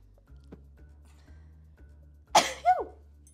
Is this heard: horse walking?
no